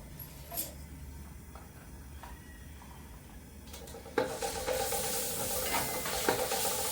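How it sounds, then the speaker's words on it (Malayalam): Ginger and garlic stir-fried over a high flame for a large batch of fried rice: a quiet background hiss that jumps into a loud, steady sizzle with scraping stirs in the second half, no voices. "നമ്മൾ ഇങ്ങനെ പെട്ടെന്ന് ഫ്രൈ ആക്കി എടുക്കുവാണ്"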